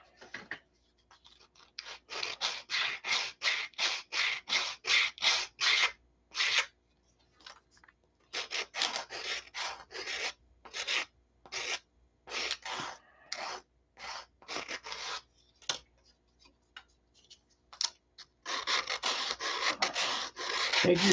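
Sandpaper rubbed back and forth on a model airplane wing before sheeting, a steady run of close, scratchy strokes in bursts with short pauses, alone without talk.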